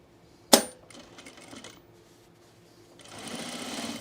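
A home sewing machine stitching cargo shorts with stout doubled top thread: a sharp click, then a short burst of stitching, a pause and a longer steady whir near the end, fairly quiet and close.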